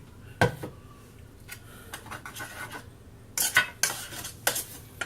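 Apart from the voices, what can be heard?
mixing cinnamon into apple pie filling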